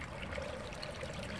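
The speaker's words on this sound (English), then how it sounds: "it's starting to get a little action on the waterfall here" Water trickles and splashes down a garden pond waterfall newly fed by an AquaScape pump, a steady, soft, continuous flow heard alone.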